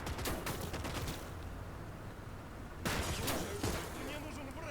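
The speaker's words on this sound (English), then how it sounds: "There's something shooting them." Gunfire in the World War II strategy game Gates of Hell during a Soviet campaign battle, dense bursts of rifle and machine-gun shots crackling in rapid volleys, loud and continuous, with a quieter gap in the middle before the firing resumes.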